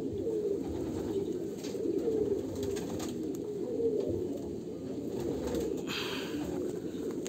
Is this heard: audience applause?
no